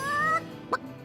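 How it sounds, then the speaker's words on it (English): A rooster in the video game Divinity: Original Sin lets out a short, close cluck, a rising tonal squawk followed by a brief sharp peep, with faint game ambience underneath. "Don't let that rooster escape."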